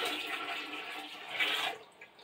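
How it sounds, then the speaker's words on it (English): A household toilet flushes in a short rushing swirl of water, fairly faint and fading out within about two seconds. "This is the sound of indoor plumbing."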